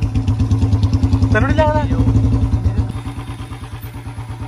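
A cold Bullet motorcycle engine runs at a fast idle with a steady, heavy rhythmic thump close by while someone speaks briefly over it.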